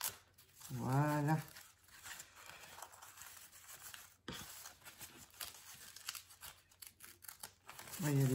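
Paper wrapping on a parcel, with crepe paper and tape, is cut and torn with crisp rustles and snips. A voice speaks at the start and again at the end of the clip.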